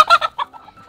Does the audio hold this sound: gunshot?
no